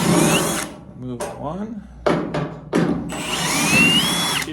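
A power drill backs screws out of the seam of a 1969 Firebird quarter panel being fitted for welding. It whirs in several short, close bursts separated by pauses, with a voice speaking briefly between them.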